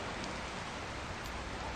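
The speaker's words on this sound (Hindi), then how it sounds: "बारिश गिर रही है" Rain falling steadily outdoors, a dense, even hiss of drops that stays constant and fairly loud throughout, with no voices over it.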